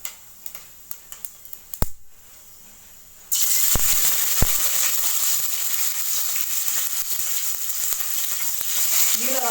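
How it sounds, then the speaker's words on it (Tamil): Mustard seeds and onion frying in oil for tomato rice: after a few light taps and a brief pause, a loud, steady sizzle begins and continues without a break. "பொரிஞ்சிடுச்சு கடுகு."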